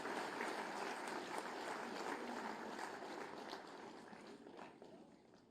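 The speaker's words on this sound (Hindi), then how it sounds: "आपकी जोरदार तालियों के अभिवादन के साथ।" Sustained crowd applause from a large audience at a public government event in Lucknow, greeting the Chief Minister; dense, steady clapping that stays fairly even and tapers slightly toward the end.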